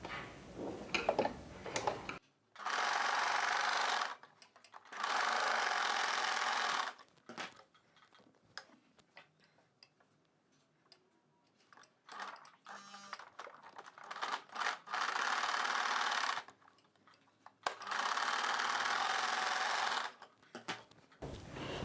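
A sewing machine stitches the shoulder seams of a blouse with a boat neck and cross cut, running in several loud, steady bursts of a few seconds each, separated by quieter pauses with faint handling clicks and no talk.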